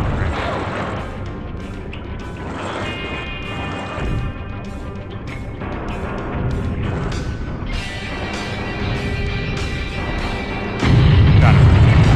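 Gunfire and explosions in the BattleTanx: Global Assault video game, a dense stream of sharp crashes, bangs and booms over game music, ending in a loud heavy rumble.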